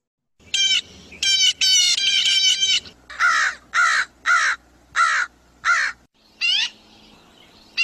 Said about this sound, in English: starting with the blue jay